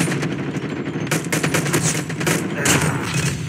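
Rapid, continuous automatic gunfire from a shooter game crackles loud and close, dense volleys of shots running without pause.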